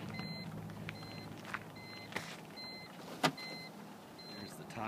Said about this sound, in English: There's the top going up.